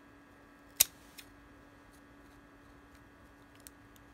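Scissors snip the arms of a corn husk doll: one sharp close cut followed by a couple of fainter snips, isolated against a quiet room with a faint steady hum.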